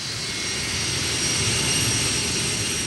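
A steady, broad roar of private aeroplane engines arriving for the 1983 Monaco Grand Prix fills the air, continuous and fairly loud, with no speech.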